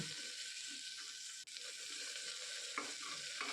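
Biscuits frying with a little salt in a pan for khichuri give a steady close sizzle, with light stirring scrapes and a brief dip in the hiss partway through.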